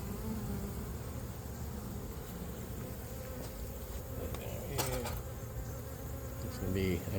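Honeybees buzz steadily inside a heavy gourd beehive, a dense continuous drone close by, with a few brief clicks and knocks from handling near the end.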